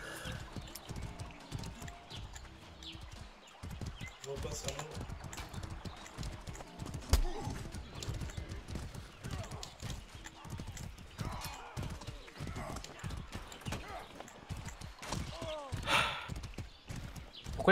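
Rapid hoof clip-clops of a galloping horse in the video game Mordhau run steadily throughout, with a brief whinny and people talking over the action.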